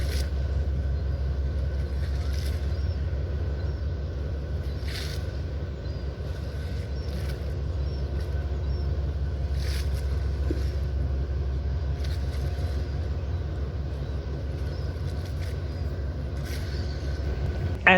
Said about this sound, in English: As the Issaquah comes in, I see my ferry speeding toward Vashon Island.